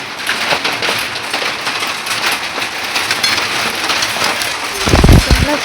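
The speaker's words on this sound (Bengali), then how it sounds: "দেখো কি পরিমাণে শিলাবৃষ্টি হচ্ছে দেখো" Heavy hailstorm pelting a house and an outdoor cot, a loud dense continuous clatter like hard rain with sharp thuds near the end.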